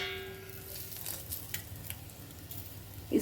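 Egg masala fries on a tawa pan with a soft, steady sizzle and faint crackle throughout, a brief clatter at the very end.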